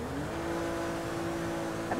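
A Porsche 718 Boxster in GTA hums steadily after being shifted into reverse, a continuous engine drone with a faint whine, close and unbroken.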